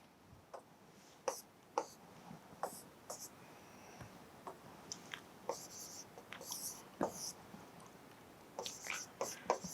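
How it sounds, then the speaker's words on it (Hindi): A hand writing out a calculus question during a maths lesson, a quiet, close series of short scratchy strokes and taps in an uneven rhythm. "मैं लिखता हूं क्वेश्चन 3।"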